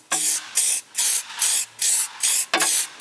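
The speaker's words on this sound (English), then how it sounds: "now I'm just gonna hit this with a little bit of silver paint" A spray can lays down silver paint in about seven short, loud, close hissing bursts with brief gaps between them.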